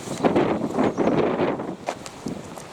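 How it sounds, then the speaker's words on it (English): Gusty wind blowing outdoors on a street, buffeting the microphone in loud rumbling surges that ease off toward the end. "it's pretty blowy already"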